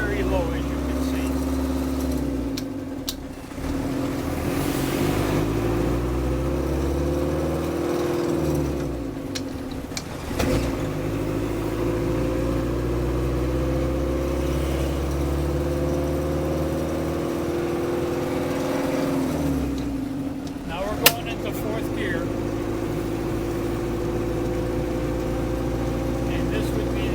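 A 1976 Land Rover Santana engine runs in very low granny gear, a steady mid-pitched drone with a few brief shifts in load, under someone speaking.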